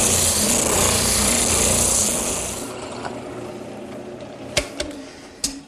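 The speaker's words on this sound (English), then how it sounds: "Now I'll sand them smooth." A power sander smooths the rounded ends of a wooden adjustment bar, a loud steady whir for about three seconds that then winds down, followed by a couple of sharp knocks.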